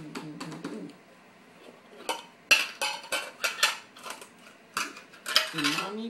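Pans clattering in a home kitchen, a burst of quick metallic clinks and rattles, close and uneven, with a child's brief high vocal sounds at the start and end.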